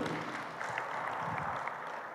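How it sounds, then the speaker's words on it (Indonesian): An audience at a televised regional discussion event applauds, a dense, moderately faint wash of clapping that holds steady throughout. "Wih, tepuk, ya. tepuk tangan itu."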